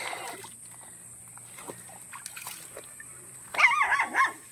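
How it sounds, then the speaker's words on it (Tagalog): Faint high whimpers and small barks from hungry puppies come through a quiet background, then a louder cluster of yips near the end. "Nagutom itong mga tuta na to."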